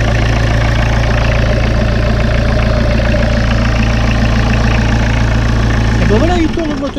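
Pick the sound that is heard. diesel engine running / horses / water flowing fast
diesel engine running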